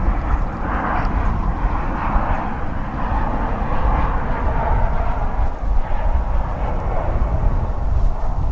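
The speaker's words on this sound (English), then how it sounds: "Here comes the flight from Los Cabos." A jet airliner from Los Cabos arrives at DFW Airport, its engines producing a loud, continuous roar that swells and rumbles steadily with no talking.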